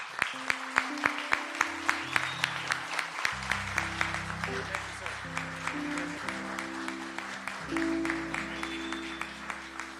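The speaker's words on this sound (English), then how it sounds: "Give him another round of applause" An audience at an African American contractors' event applauds steadily over sustained musical tones, with evenly spaced sharp claps running through the whole stretch at moderate loudness.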